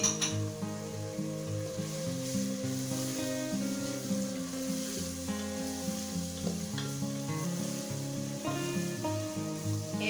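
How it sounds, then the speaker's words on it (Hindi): Whole large green chilies fry with chopped tomatoes in a hot pan, giving a steady, even sizzle for the full stretch with light stirring and a tonal hum beneath. "1-2 मिनट इनको फ्राई करेंगे"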